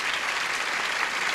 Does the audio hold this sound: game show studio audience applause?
yes